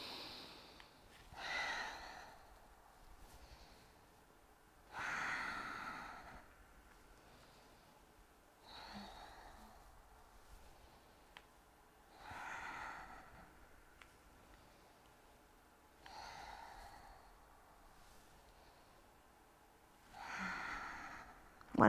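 Slow, deep breaths during a yoga twist sequence, each long airy inhale or exhale rising and fading at a calm, even pace, close and soft with quiet pauses between.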